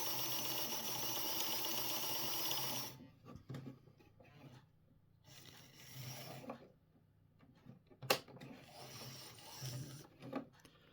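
A Hornby Thomas model train motor whirs loudly at full speed for a few seconds, then stops, leaving quieter handling, rubbing and clicking sounds with one sharp knock.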